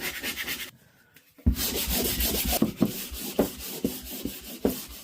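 Drywall joint compound being sanded by hand in a bathroom to knock down a raised lip, giving a steady abrasive rubbing with rhythmic scraping strokes, broken by a brief quiet pause, close and alone.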